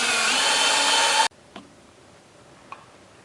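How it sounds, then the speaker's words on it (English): A power drill bores pilot holes into a wooden countertop, whirring loudly and steadily for just over a second before stopping abruptly, followed by a couple of faint clicks. "So let me go ahead and pre-drill those"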